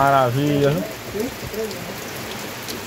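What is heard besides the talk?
rain falling on a rural farm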